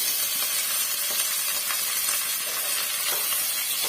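Garlic, curry leaves, black pepper and cumin sauté in a hot pan for rasam, giving a steady close sizzling hiss with faint crackles throughout and no voices.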